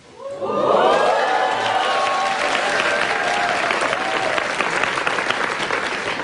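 A crowd breaks into loud, sustained applause with some cheering at a live public broadcast of a Korean news show, rising quickly and holding steady throughout.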